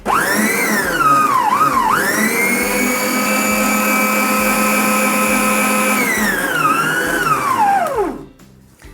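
An electric hand mixer whisks egg whites with vinegar for a strawberry pavlova, a loud steady motor whine that dips and rises in pitch as the beaters move, then winds down and stops.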